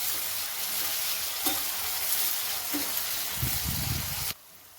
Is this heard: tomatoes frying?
yes